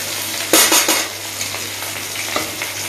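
Chopped onion and green chilli hit hot oil in a pan with a loud burst of sizzling that settles into a steady frying hiss, with a few stirring scrapes and utensil clinks.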